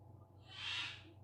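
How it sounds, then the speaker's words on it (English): A single soft call from a pet bird rises and fades briefly over a low steady hum, faint and somewhat distant. "That's my bird. He doesn't want to go to bed."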